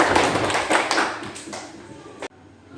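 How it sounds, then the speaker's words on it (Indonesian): Applause breaks out in a classroom for the first student group, brisk claps that fade over two seconds before a sudden cut, with voices mixed in. "Kita berikan aplaus yang meriah untuk kelompok 1"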